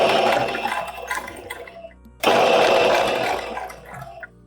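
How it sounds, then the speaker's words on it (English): Sewing machine stitching pinned fabric for an anime cosplay costume: a loud, steady motor whir runs for about two seconds, breaks off briefly, then resumes in a second long burst before trailing off. "now we're ready for the sewing part"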